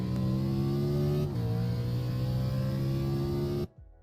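A race car engine in iRacing on an oval, held on throttle as a loud, steady high-pitched drone that shifts pitch briefly before cutting off abruptly.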